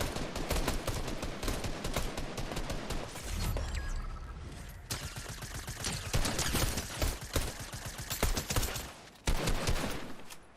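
Rapid SMG bursts in a shooter video game against bots, loud and near, with dense rattling volleys and short pauses between them.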